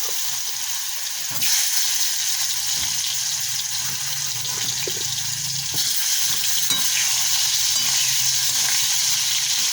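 Potatoes frying in hot oil in a wok (kadai), giving a loud, continuous hissing sizzle with occasional scraping stirs and soft clinks, close up and with no talking.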